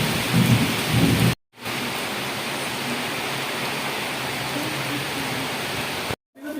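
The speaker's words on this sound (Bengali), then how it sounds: "মানে এত পরিমাণে বৃষ্টি হইতেছে" Heavy rain pours down in a dense, loud, continuous roar, with a brief cut to silence partway through and no speech over it.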